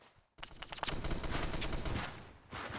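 Sniper rifle fire in a first-person shooter video game: near quiet at first, then a sharp shot followed by rapid, dense gunfire bursts and echoing booms that run nearly continuously to the end, with no voices.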